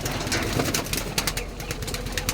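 A female chila pigeon coos inside a pigeon loft, soft low repeated calls heard close over constant background noise and rustling.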